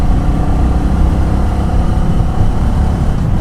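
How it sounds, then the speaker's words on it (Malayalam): A Royal Enfield Classic 350 on the move, its exhaust giving a steady, close low thump with a continuous engine rumble. "ആ എക്സോസ്റ്റ് ആണ്, തമ്പുണ്ട്"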